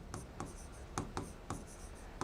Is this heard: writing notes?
yes